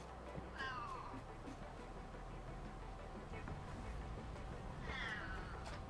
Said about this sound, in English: The loud cat has spoken.